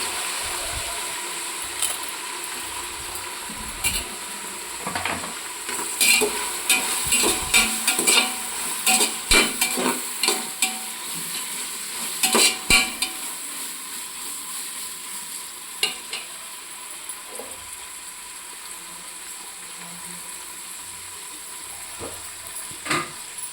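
Ingredients sizzle steadily in a hot pan for a long stretch, with frequent scraping and clattering strokes as they are stirred, busiest in the middle, with no voices.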